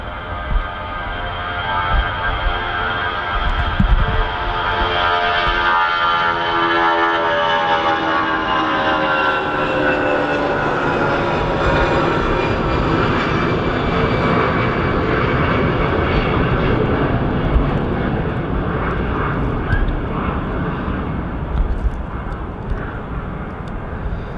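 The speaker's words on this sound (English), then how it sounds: "Lovely noise from them CFM engines." A Lufthansa Airbus A319 with CFM engines departs Manchester Airport, a loud, sustained jet roar with a rising, wavering engine whine that fills the whole stretch, with no talking.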